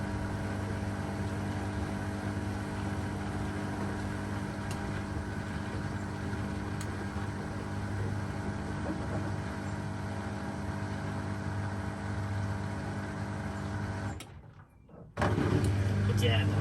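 Beko WM5100W washing machine on a 1000 RPM spin, a steady loud whirring drone with strong low hum that holds for about fourteen seconds, briefly drops away, then resumes.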